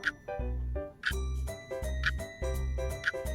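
A bright correct-answer chime plays its ding-dong-dang melody in a children's Sunday school quiz, a clear jingling tone sequence repeated several times in quick succession.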